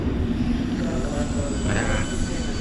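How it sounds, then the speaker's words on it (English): A London Underground train at Mansion House station rumbles steadily and loudly as it prepares to pull away, with a continuous low roar, faint wheel squeal and a muffled announcement-like voice underneath. "This train is now ready to depart."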